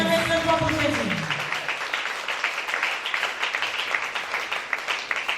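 A church congregation applauds for Jesus, a dense burst of clapping that swells in after a brief voice and continues steadily at moderate loudness.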